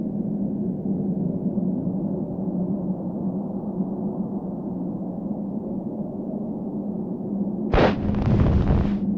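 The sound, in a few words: explosion in a video game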